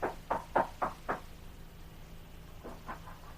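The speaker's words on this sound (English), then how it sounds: "We hear him as he raps on the door of Jim's home." Knuckles rapping on a house door in an old radio drama, five quick knocks, a pause, then three more, close and crisp against faint background hiss.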